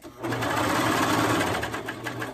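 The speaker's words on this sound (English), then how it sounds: "So now I've got just the back to sew" Sewing machine running a zigzag stitch on an elastic hem, a short, close, steady motor whir with a rapid needle rhythm that starts abruptly and tapers slightly at the end.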